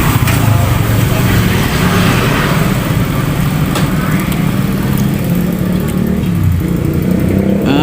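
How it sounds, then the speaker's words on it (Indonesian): A Suzuki Titan motorcycle engine revving at about half throttle during an engine build, a loud, steady buzzing drone that holds close and rises briefly near the end. "Suzuki Titan gas separuh breget, gas setengah breget."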